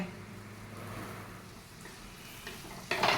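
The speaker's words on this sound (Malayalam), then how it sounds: "തക്കാളിക്ക് ഇട്ട് കുറച്ച് നേരം ഒന്ന് ഇളക്കി കൊടുക്കാം" Soft sizzling of tomatoes stirred into sautéed onions in a pan, gentle stirring scrapes, quiet and close, ending in a brief louder clatter.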